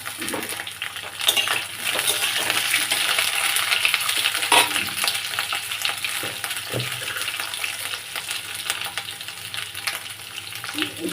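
Potatoes and eggplant fry in a pan with a steady loud sizzle and occasional stirring clatter, heard close and alone without talk.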